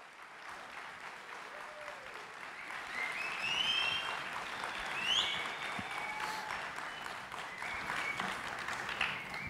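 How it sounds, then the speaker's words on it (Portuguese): Audience applause at a hypnosis stage show, steady dense clapping from a crowd throughout, moderately distant and swelling slightly in the middle before continuing. "palmas para os nossos astros!"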